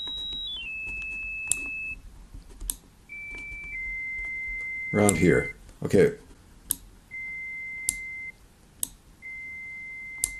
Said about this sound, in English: First, let's choose one which is around 2 kilohertz.